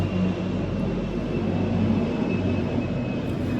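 An airplane flying low near an airport gives a loud, steady roar that fills the whole stretch without easing, and no voices are heard.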